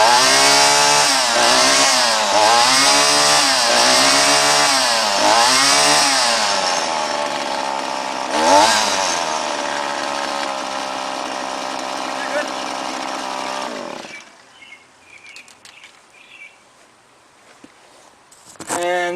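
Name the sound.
Shindaiwa gas string trimmer engine running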